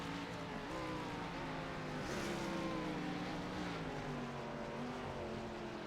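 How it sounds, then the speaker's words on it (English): Simulated stock cars in iRacing roar around Canadian Tire Motorsport Park, a dense continuous engine drone with pitch rising and falling as several cars run together, steady and unbroken. "hear the sound of stock cars roaring around Canadian Tire Motorsport Park"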